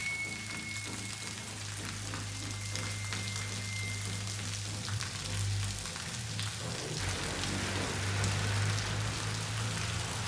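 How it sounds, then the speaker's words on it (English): Heavy rain drums on metal rooftops at night in San Cristobal de las Casas, Mexico, a dense, continuous hiss and patter that holds steady for the whole stretch with no voices. "there are metal rooftops on some of these. And so on this day that we stayed at this Airbnb, it was a rainy night"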